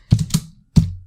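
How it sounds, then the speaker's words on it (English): Close, crisp clacks of a computer keyboard: a quick cluster of three key presses followed by one more firm tap after a short pause. "Why am I typing the whole thing?"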